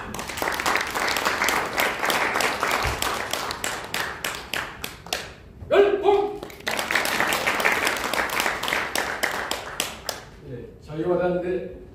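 An audience at a political launch event gives loud, sustained applause welcoming a speaker, a dense burst of clapping that pauses briefly as voices come through, then swells again.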